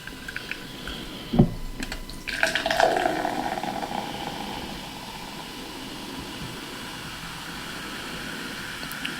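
Extra Peach soda is poured into a mug: a short clunk, then a rushing pour that fades into a steady soft fizz that continues.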